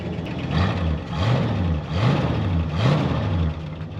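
The engine of a Ford Galaxie XL that sat parked for 38 years runs with a valve adjustment problem, a loud, rough idle with rhythmic rising pulses as it is revved repeatedly.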